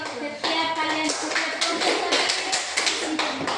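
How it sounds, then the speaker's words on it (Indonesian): Students in a classroom clap for a group after its presentation, a bright, uneven burst of many hands clapping with sharp overlapping slaps, close by and fairly loud, and faint voices mixed in. "Tepuk tangan untuk kelompok 3."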